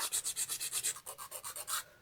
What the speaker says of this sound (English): just use a nail file to make sure I like the shape